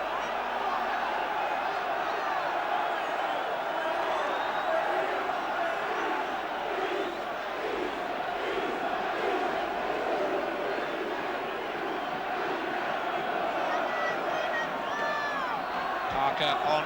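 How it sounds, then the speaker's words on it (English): Dense, steady roar of a football crowd cheering and chanting at Southend United v Liverpool in the FA Cup third round, a continuous wash of many voices with occasional whoops and swells, under no clear talk. "the crowd are loving these last few minutes because Southend are throwing everything at Liverpool now"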